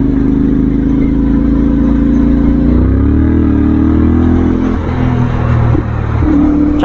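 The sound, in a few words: CFMoto 450MT motorcycle engine, 270-degree crank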